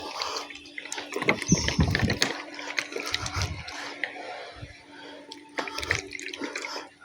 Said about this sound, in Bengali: জলটাকে একটু সেক করে নিতে হবে, মানে নাড়িয়ে নিতে হবে